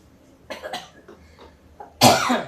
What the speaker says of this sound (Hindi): मुझे कई दिनों से खांसी आ रही